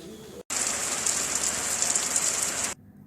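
A heavy overnight downpour pours steadily as a loud, close, unbroken hiss, starting and stopping abruptly, with no voices.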